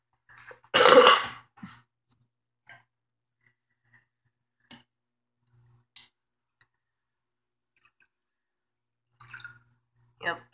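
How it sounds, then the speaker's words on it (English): Bubbles are blown into water in a fish tank cup, giving one loud burbling burst near the start followed by a few faint, scattered blips and splashes across otherwise quiet air. "that was me with the bubbles"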